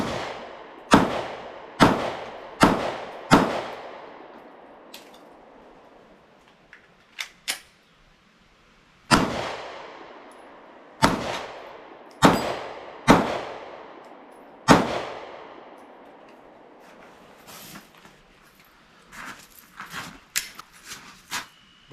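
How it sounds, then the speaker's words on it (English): Glock 45 pistol fired in strings of five rounds: sharp, loud reports in quick regular bursts, with echoing decays, a pause and scattered fainter shots between groups. "Glock 45, 5 rounds each."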